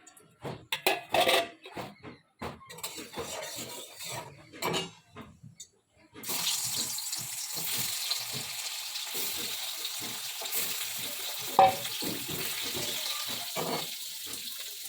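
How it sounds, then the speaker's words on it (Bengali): Fish goes into a hot wok: a few seconds of sparse clatter and handling noises, then a sudden loud, continuous hiss of frying that carries on steadily to the end. "কড়াই গরম হয়ে গেছে এবার মাছটা ভেজে নিই"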